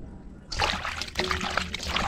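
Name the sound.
water splashing while washing chicken feet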